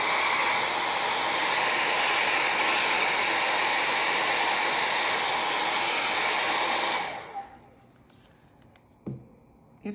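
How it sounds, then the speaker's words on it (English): Hair dryer blow drying PBO paint on an artwork, a loud, steady, close whooshing roar that runs for about seven seconds, then cuts off, leaving near silence with a couple of soft handling knocks. "So what I'm going to do right now is blow dry this PBO"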